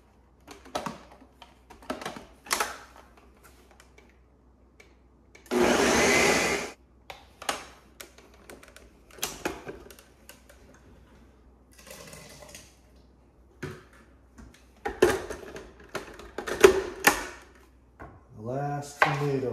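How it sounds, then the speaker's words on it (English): A kitchen blender whirs through tomato salsa mixed with brown sugar and pickling salt in one loud, steady burst lasting about a second, set among scattered clatter and bits of talking. "we're going to hit it in the blender again"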